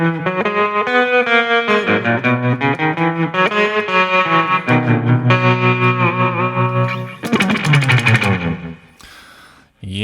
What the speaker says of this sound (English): Some slapback reverb there.